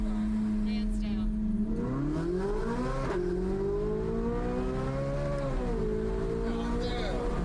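Chevrolet Corvette Z06 engine revving while driving, a loud continuous tone climbing and dropping with throttle through the whole stretch, steady and close, with some talk over it.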